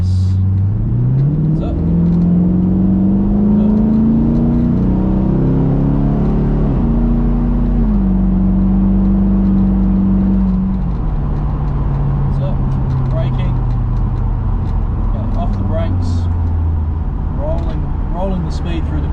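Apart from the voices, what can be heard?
V8 Chevrolet Camaro accelerating on race track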